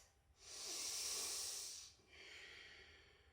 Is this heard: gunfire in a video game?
no